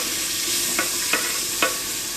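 Onion and tomato fry in a pan with an even hissing sizzle, and three distinct spatula taps or scrapes land close together against it.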